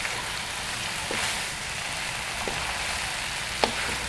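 Squid sambal fries in a pan with a steady, dense sizzle close by, broken by a few light knocks of the stirring utensil against the pan.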